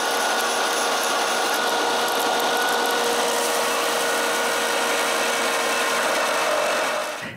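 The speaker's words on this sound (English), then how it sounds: "I sand them to the right length." A power sander grinds maple pieces down to length with a loud, continuous high whine and gritty rasp that holds steady for several seconds before cutting off, close and with no voices.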